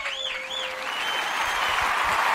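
At a poetry night, listeners applaud a poet after her reading. A brief whistle-like tone and a faint wavering sound rise at first, then a growing patter of clapping builds and fills the room.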